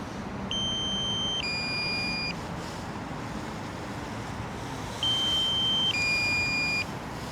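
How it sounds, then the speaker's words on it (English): Two separate pairs of electronic drone low-battery warning tones, each a short two-note beep sequence, over steady outdoor wind and background noise at Stonebridge Park, London. "I'm going to land it before the beeping starts, and it already started."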